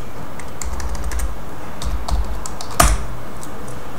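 Short bursts of typing on a computer keyboard set up for AutoCAD work, with quick close key clicks and one louder keystroke near the end. No one speaks.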